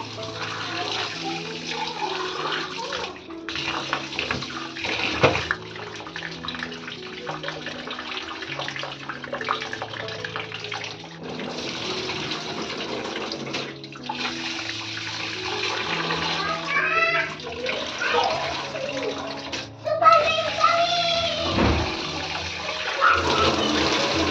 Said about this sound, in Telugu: సో ఈ రైస్ని నీట్గా క్లీన్ చేసుకొని సోక్ చేసేద్దాం